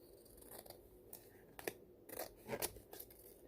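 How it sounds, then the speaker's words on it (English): Scissors trimming excess paper off a handmade envelope, a few quiet crisp snips and rustles in close succession, faint and close. "let me go ahead and cut this part off that is too long"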